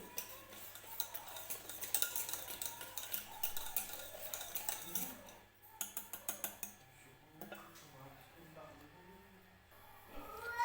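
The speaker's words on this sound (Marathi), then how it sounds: "तर हे बघा हे पीठ मी छान असं मिक्स करून घेतलेलं आहे" Gram flour batter for bread pakora being stirred and mixed in a bowl, a utensil tapping and scraping in quick irregular bursts, with a voice speaking over parts of it.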